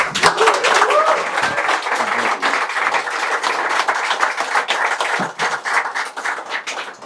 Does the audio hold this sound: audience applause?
yes